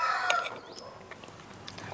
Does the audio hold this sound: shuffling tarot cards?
no